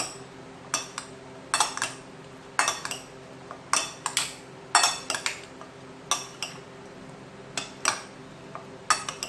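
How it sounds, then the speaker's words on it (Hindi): Fruit salad being mixed with dressing in a bowl produces a rhythmic series of sharp spoon-against-dish clinks and taps, roughly every half second over a soft background, with no voices. "इसको ऐड करने के बाद मैं इसको अच्छे से मिक्स कर लूँगी"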